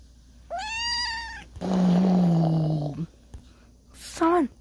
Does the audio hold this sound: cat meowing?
yes